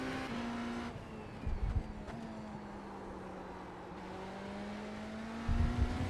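BMW M Hybrid V8 LMDh race car in iRacing at Watkins Glen, its engine note sweeping down as it brakes and downshifts to third gear, with a steady whining drone and brief low thumps.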